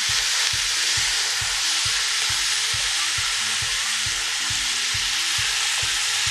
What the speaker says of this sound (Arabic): رح بلش حط من المرقة بعد ما حطينا كل البهارات والملح.